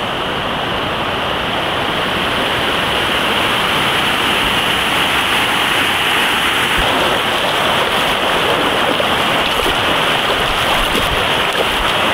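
Lake overflow water rushing across a road near the Mallaghatta Gangadhareshwara temple, a loud, steady, broadband roar of flowing water that continues unbroken and close throughout.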